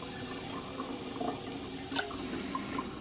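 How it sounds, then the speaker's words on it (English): Tap water runs from a sink into a bag as a steady, close splashing hiss with a few brief drips, continuous for the whole stretch. "Put a little water in here."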